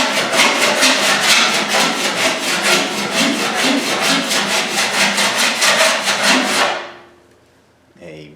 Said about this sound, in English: A Vixen file works quite well for figuring out what your highs and lows look like as you go to address the weld seam.